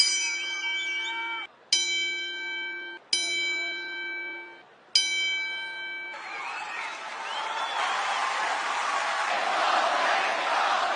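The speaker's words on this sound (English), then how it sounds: "Please help us honor him now as we give a 10-bell salute, the immortal Hulk Hogan." A wrestling arena bell tolls four separate times at a 10-bell salute during a Raw broadcast, each strike ringing clear and decaying, before a large crowd swells into sustained applause and cheering.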